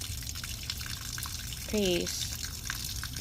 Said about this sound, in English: the first step is draining this thing